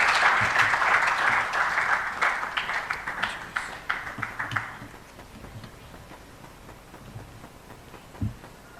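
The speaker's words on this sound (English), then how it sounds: "Let's welcome Professor Peter Quartey with a round of applause" Round of applause welcoming Professor Peter Quartey at a sanitation address in Ghana, dense clapping that swells at first, then thins and fades into scattered claps and quiet room noise.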